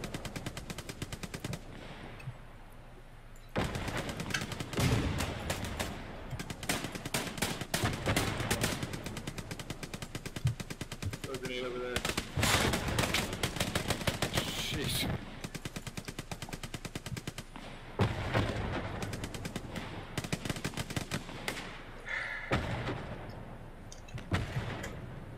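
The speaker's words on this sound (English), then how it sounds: "What is that shooting? Is it a tank still?" Heavy gunfire in the World War II shooter game Hell Let Loose, with sustained machine-gun bursts and scattered rifle shots rattling loudly across the whole stretch, broken by brief lulls.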